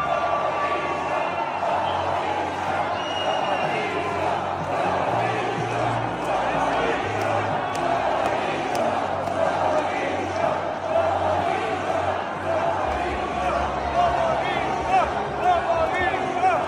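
A dense crowd at an outdoor political rally in Campinas roars steadily, a mass of jeering and shouted voices sustained throughout, loud and close.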